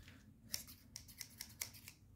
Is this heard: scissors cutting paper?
yes